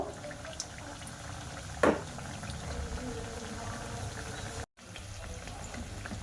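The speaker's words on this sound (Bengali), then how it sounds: "একটু হাতে সময় নিয়ে নিমকিগুলো ভাজা করে নেব" Nimki pastries fry in hot oil with a steady, close bubbling sizzle, broken by one brief louder crackle and a momentary dropout near the end.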